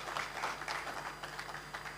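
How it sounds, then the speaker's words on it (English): Audience applause at an education forum, a dense patter of many hands clapping steadily at moderate volume throughout. "Another round of applause for."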